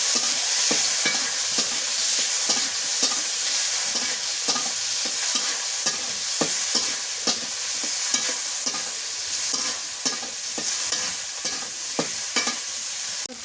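Taki fish frying in oil in a pan during village cooking, with a steady bright sizzle throughout and repeated scraping stirring strokes at a brisk, irregular rhythm, close and fairly loud, no voices.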